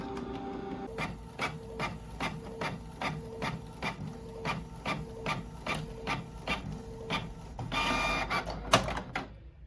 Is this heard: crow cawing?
no